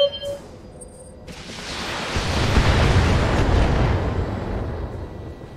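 A destroyed enemy mech explodes in the Battletech game, a big rumbling blast that swells over a second and rolls on as a long, loud, noisy roar before slowly fading, with no voices.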